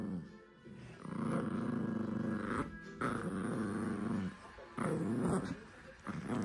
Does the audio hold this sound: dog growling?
yes